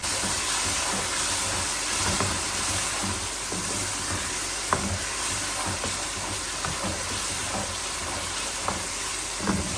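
Potatoes and peas frying with onion, tomato, ginger and garlic in a pan, a steady loud sizzle with occasional stirring scrapes and light knocks across the whole stretch.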